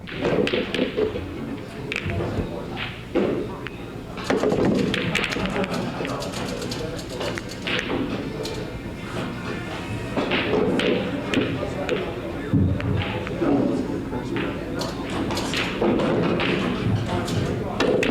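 Pool balls struck during an 8-ball league match on a billiard table, with a run of sharp clicks and knocks spread through a steady background murmur of voices.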